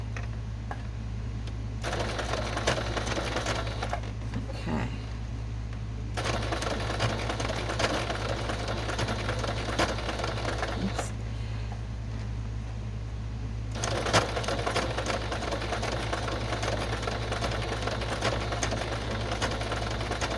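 A sewing machine runs in steady bursts while stitching fabric ruffles for a soft-cover junk journal, making a continuous close whir that pauses briefly a few times. No one speaks.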